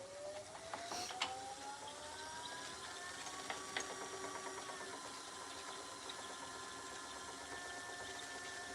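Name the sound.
woodworking lathe spinning up to speed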